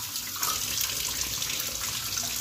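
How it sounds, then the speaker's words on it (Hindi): Tap water runs steadily over a Kent RO water filter being rinsed and pressed by hand under the faucet, a continuous close splashing hiss with no voices. "फ़िल्टर को क्लीन करने के लिए इस तरीके से पानी के नीचे रखें, टोंटी के नीचे, और हाथ से ऐसे दबाते रहें।"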